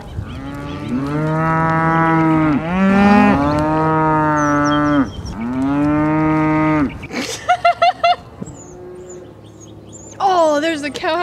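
A cow moos loudly and close by in several long, drawn-out calls, then falls quiet while birds chirp in the background and a few short sharp sounds follow.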